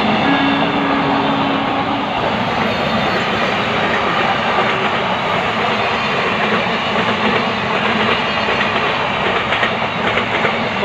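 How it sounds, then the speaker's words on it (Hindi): Loud, continuous rumble and clatter of a very long Indian goods train passing close by, steady roar with rhythmic wheel clicks and no speech. "ये भारत का सबसे लंबा ट्रेन है माल लेने जाने वाला"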